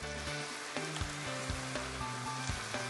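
A ladle of stock hits a vegetable risotto in a pan over low heat, setting off a steady close sizzle broken by repeated thuds and scrapes of stirring.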